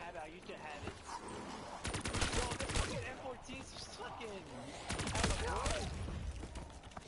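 The CUDA gun fires in a zombies video game, rattling off rapid bursts of shots that come in clusters. Players talk and exclaim over the shooting.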